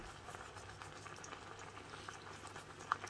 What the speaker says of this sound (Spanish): Y dejamos reducir el vino junto con la carne que se cueza bien.